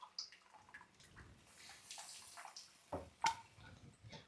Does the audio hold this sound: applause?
no